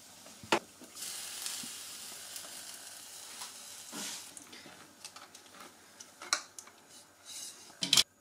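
Heart-shaped waffle cooking in a Silvercrest SWE 1200 waffle maker, a quiet steady sizzle with a few sharp clicks and clatters along the way.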